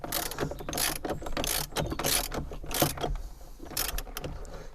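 A ratchet wrench clicks steadily as a bolt is torqued tight on a crashed Fiat 500 during bumper and wheel work, a close, continuous fast ratcheting with no talk.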